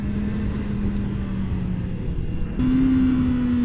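Kawasaki ZX4-R motorcycle engine held in second gear during a ride, a steady droning tone that dips slightly, then jumps higher and louder as the revs climb, with wind rush throughout.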